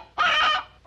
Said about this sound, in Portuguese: Galinha, doutor. Galinha!